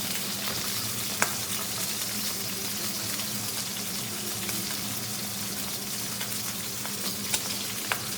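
Pork tenderloin seasoned with paprika and oregano fries in a pan, a dense steady sizzle that stays loud throughout with occasional small pops and spatters.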